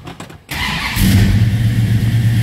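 A 1969 Dodge Coronet R/T V8 cranks briefly, then catches and settles into a loud, steady idle with a deep, rumbling exhaust, heard up close with no talking.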